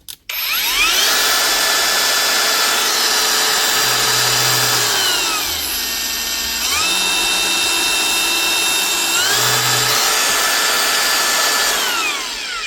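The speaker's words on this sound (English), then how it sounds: "A wee cheap and cheerful Mellif grinder, up and running again." A repaired Mellif cordless grinder runs loud and steady for about twelve seconds, its high whine rising and falling in pitch as it spins up, slows briefly and speeds up again, with no talking.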